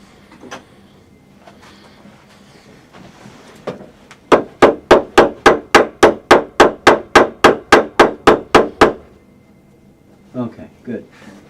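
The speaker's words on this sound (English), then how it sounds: "let me see that hammer for a sec." Rapid, evenly spaced hammer strikes drive 6-ounce upholstery tacks into an 1800s sofa frame in a workshop, about fifteen sharp close taps in a steady run, with brief talk and a few softer knocks before and after.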